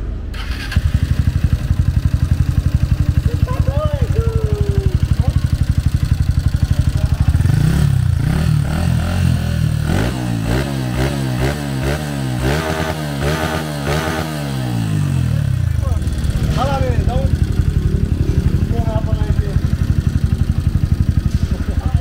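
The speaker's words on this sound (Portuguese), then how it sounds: "Vamos dar uma partida pra galera ver." A Honda Fan 160 motorcycle fitted with a 205cc kit starts up and idles with a loud, close, uneven putter, then revs in rising and falling bursts before settling back to a rough idle, with a few brief voices over it.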